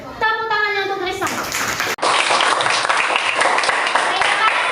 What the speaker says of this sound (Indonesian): Tepuk tangannya untuk Tristan.